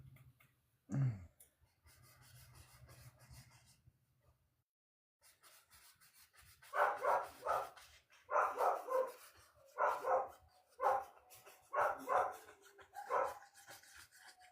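A group of dogs barks and howls in rapid, rhythmic bursts of five or six calls, loud and fairly close. They start only after a quiet stretch with a faint low hum and a single sharp knock.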